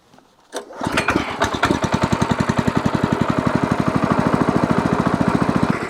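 A tiller with a 7-horsepower engine starts up, then runs loud and close as it churns through farm soil in Portugal, with a steady rapid pulsing beat that keeps going to the end and no talking.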